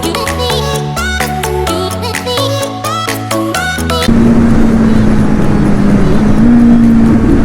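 A Kawasaki Z900 motorcycle fitted with a new aftermarket exhaust on a Sunday ride: music plays at first, then a loud, steady engine drone takes over and climbs slightly in pitch as the bike pulls along.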